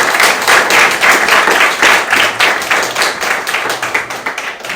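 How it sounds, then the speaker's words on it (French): A crowd claps loudly in quick, irregular bursts, the applause steady and close throughout, with no talking. "Applaudissons pour nous,"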